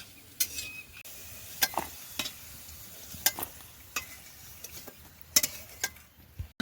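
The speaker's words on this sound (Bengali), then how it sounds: "আলুগুলো ভাজা হয়ে গেছে এবার তুলে নেবো" Potatoes sizzle quietly in a frying pan while a utensil scrapes and clinks against it now and then, stirring at an uneven pace.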